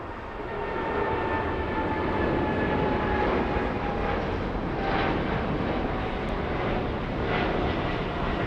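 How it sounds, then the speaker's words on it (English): An American Airlines passenger jet taking off at Los Angeles International Airport, its engines roaring loud and steady for the whole stretch with a broad rushing tone, no talking over it. "Finally, American 9783 taking off."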